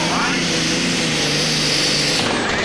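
Caesar, the 1993 4.4 European champion pulling tractor, roars off at the 1995 European Tractor Pulling event in Herning, Denmark, a loud, close, sustained engine blast filling the whole moment.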